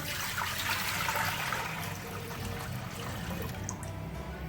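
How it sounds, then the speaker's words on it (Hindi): A jug of about 1.25 litres of water is poured into a cooking pan for black chickpea curry, giving a steady, close splashing gush that fades slightly toward the end. "सबसे पहले हम पैन में 1 जग भरकर पानी का ऐड करेंगे।"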